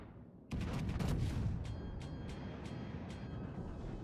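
High-explosive shell fire from the battleship Amagi in World of Warships, a heavy salvo of booming shots opening sharply, then a rumbling roar with several fainter cracks trailing off.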